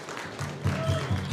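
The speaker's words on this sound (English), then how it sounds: "Let's give them a big round of applause." Applause from the audience at a Tri-Nation signing ceremony of the Muscowpetung, Piapot and Pasqua First Nations, greeting the eagle staff carriers. A brief, fairly loud burst of clapping over a low hum.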